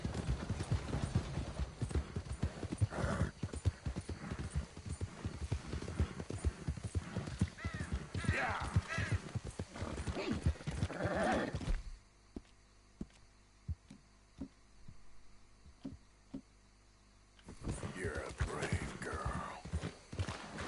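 Rhythmic horse hooves in Red Dead Redemption 2 clip-clop steadily with a whinny, then a quiet gap with faint ticks before the galloping hooves resume.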